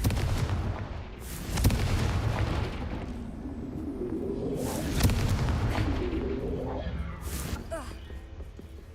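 A Confringo fire spell blasts in the Hogwarts Legacy video game, with several sharp explosive booms bursting through a busy game mix while a voice speaks over the action.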